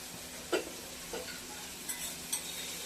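Onion is sautéed in a pan with a soft, fairly faint sizzle and a few light stirring taps at intervals.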